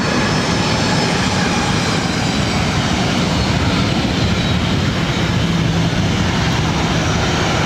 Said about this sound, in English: Now lining up for takeoff, Delta Airlines 1696. Headed out to Las Vegas on the 737-800.